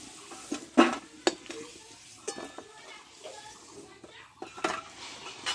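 A spatula scrapes and clinks against a pan as oil-fried potato pieces are stirred and lifted out, with irregular metallic knocks over a soft sizzle in a home kitchen.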